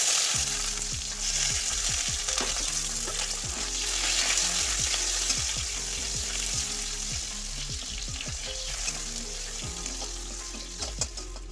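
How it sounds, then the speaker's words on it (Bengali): Onion frying in mustard oil in a pan, a steady close sizzle with frequent clicks and scrapes of a spatula stirring, plus a few brief clinks near the end. "প্রথমে ভেজে নিচ্ছি পেঁয়াজ।"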